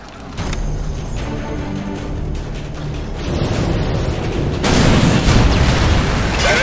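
A missile strike in the video game Call of Duty Modern Warfare 2, a loud, sustained rumbling boom that swells and grows harsher toward the end, with no voices over it.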